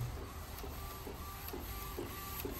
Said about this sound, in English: So now it is printing